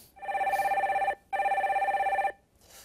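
Telephone ringing as a radio call-in line connects, two long electronic rings separated by a short gap, loud and close with no talk.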